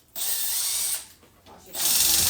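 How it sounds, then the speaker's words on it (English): A power drill bores into a workpiece held over Kaizen foam, with two loud, steady whining bursts separated by a brief quieter gap. "So I just drill it over a piece of Kaizen foam."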